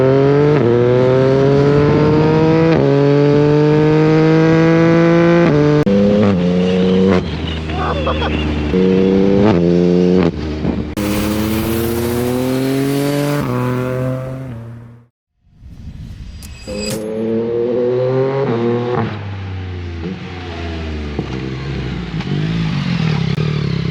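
A Yamaha MT-09 with the Y-AMT automated gearbox revs through a run of rising and falling engine notes, loud and close. Rushing wind noise comes through, then a sudden near-silent gap, and the engine returns.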